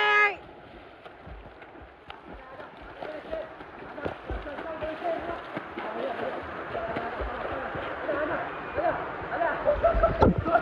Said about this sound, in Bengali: অমিত বল আমার সাথে মানে কন্টেস্ট করবে সাঁতারের রেস সুইমিং এর।